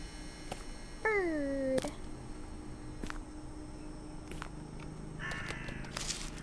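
A bird caws once in the horror game Stigmatized Property, a short harsh call standing out over a dim ambient bed, followed by scattered faint clicks and a brighter electronic chime near the end.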